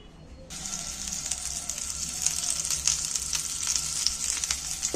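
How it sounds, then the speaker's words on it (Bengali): Egg and onion pieces fry in a thin film of oil in a pan, giving a steady, close, bright sizzle with small pops and crackles throughout, no voices. "এবার বাকিগুলো আর একবার আমি ভেজে নিচ্ছি। 1 চামচ তেল দিয়ে দিচ্ছি, তেলটা বুলিয়ে নিচ্ছি।"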